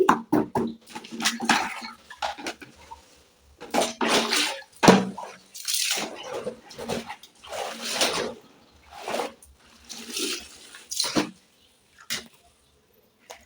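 Clothes are hand-washed in a basin of water with vinegar and detergent, with repeated sloshing, rubbing and splashing bursts in an irregular rhythm, close up, separated by brief pauses.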